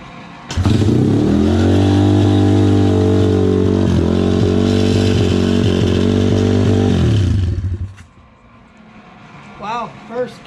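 An SSR/Pitster Pro pit bike engine starts on the first kick and runs at a loud, steady high idle for several seconds. It then cuts out, and excited voices follow close by.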